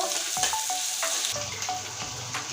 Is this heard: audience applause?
no